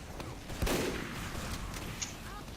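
Gunfire in Team Fortress 2 during a competitive match on the gravelpit map: one sharp, loud shot, then a fainter crack about a second and a half later over steady game noise.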